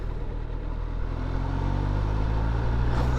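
Superbike engine cruising in sixth, its top gear, a steady continuous drone with a low harmonic hum, close and loud with no voices.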